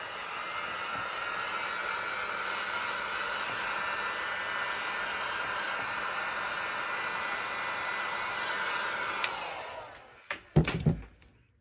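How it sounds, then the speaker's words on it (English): A heat gun blows steadily over resin pieces, a close continuous airy whoosh that cuts off near the end, followed by a few clunks as the tool is set down. "take these down with the heat gun a little bit"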